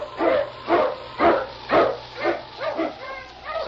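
An Eskimo lead dog barks repeatedly in a radio drama sound effect, about eight evenly spaced woofs at close range, with no other sound around them.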